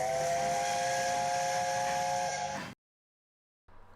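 A steam locomotive whistle blows loud and steady for nearly three seconds with a hissing edge, cuts off into silence, and a brief burst of sound returns at the end.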